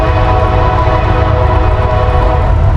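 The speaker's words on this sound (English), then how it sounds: "There's a train" A passing train rumbles loud and close in a steady, dense roar, with a horn sounding through it the whole time.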